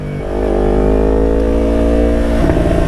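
A Yamaha R6 motorcycle engine idles and then revs up to a steady, loud high-rpm drone, heard close and alone with no talk.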